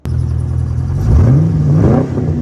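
A crashed Chevrolet C5 Corvette idles with a steady low rumble, then briefly revs up and settles back, loud and close with no talking.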